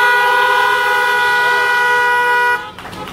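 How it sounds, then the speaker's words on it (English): Several car horns blare together at a drive-in church graduation service, a loud sustained chorus of overlapping tones holding steady for over two seconds before cutting off abruptly. "One more honk."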